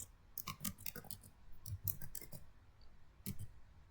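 Keys clacking on a computer keyboard while commands are entered on a router: quiet, close, irregular clicks in short bursts with brief pauses, no talking.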